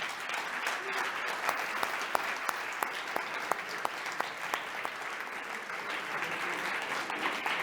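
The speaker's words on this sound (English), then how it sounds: "all these people deserve a big round of applause." An audience at the close of an NGO conference gives sustained applause, with a dense bed of clapping and a few sharper, regular claps standing out nearby throughout.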